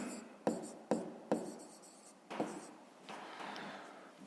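A pen scratches across paper as a fifth-grade maths exercise is written out by hand, quiet strokes marked by several distinct taps and scrapes in an irregular rhythm.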